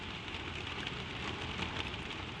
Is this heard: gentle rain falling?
yes